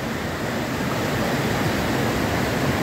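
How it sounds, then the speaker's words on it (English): Stewart Creek Falls near Ymir, British Columbia, roars as a loud, dense, continuous wash of falling water heard up close, steady broadband rushing with no voices. "stop here and just show you this beautiful waterfall again."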